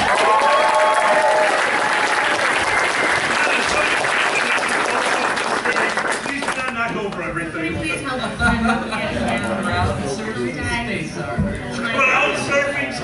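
Applause from the crowd at the Fursquared 2017 opening ceremony greets a guest, loud sustained clapping and cheers for about six seconds before it fades into crowd noise and people talking.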